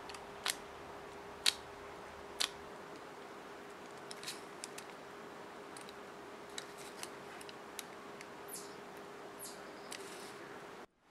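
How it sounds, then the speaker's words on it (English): Hobby knife cutting leaves from green stuff putty: sparse, quiet clicks and soft taps scattered at irregular intervals over a steady faint hum, close and alone. "I cut out the leaves with a hobby knife"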